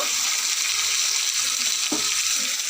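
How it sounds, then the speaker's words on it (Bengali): Potatoes frying in hot oil in a pan give a steady close sizzle throughout, with a brief clatter of stirring near the end and no talking. "আলু দিয়ে তেলটা গরম হয়ে গেছে তো আমি এটা রান্না করব"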